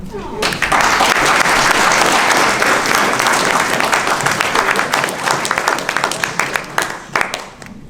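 Audience applause at a civil liberties group's annual meeting after award citations are presented, a dense, loud burst of clapping from a large crowd that holds steady for several seconds before gradually thinning.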